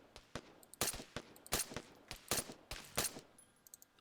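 BTR-90 autocannon fire in Arma 3 comes as a string of distant, evenly spaced heavy reports, single shots and short bursts thumping repeatedly over several seconds with no talk.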